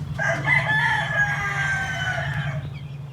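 A rooster crows once, loud and close, over soft clucking from chickens in a farm's large stock chicken pen where chicks are being introduced to the main flock.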